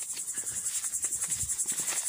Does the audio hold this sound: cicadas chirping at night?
yes